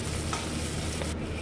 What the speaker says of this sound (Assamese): ভাত খাবলৈ বুট কেইটামান ভাজিছোঁ